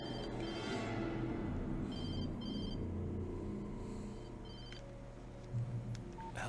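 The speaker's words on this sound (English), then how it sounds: "She was startled by the phone." A telephone rings faintly in the game Alan Wake, a few short repeated electronic trills set low beneath a dense ambient backdrop.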